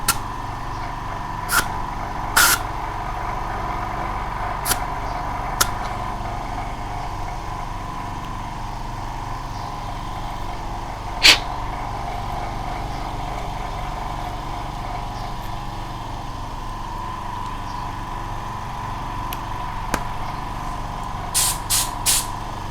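An air hose inflates a tire with a steady, unbroken hiss, punctuated by a few sharp clicks and taps from the fittings.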